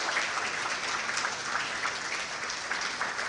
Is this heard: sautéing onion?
no